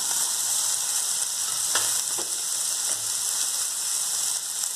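Red tomatoes and chillies frying in a pan for a thecha, with a loud steady sizzle and a few scrapes of a spoon stirring, no talk.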